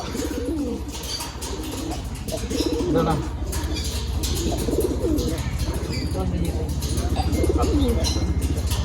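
Racing pigeons coo in a loft under a low steady hum, soft repeated throaty calls close by with occasional wing flutters, while people talk over them.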